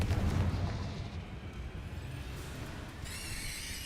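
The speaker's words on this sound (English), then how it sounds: "Confringo." A Confringo fire spell detonates in the Hogwarts Legacy video game, a dull booming blast that rolls into a sustained low rumble and crackle. Fairly subdued, with a faint bright whine appearing near the end.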